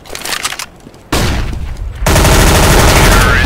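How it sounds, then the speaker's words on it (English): A flashbang grenade detonates in a video game, heard as a sudden loud blast that jumps into a sustained, dense roar of sound, following earlier bursts of gunfire-like noise. "Flashbang."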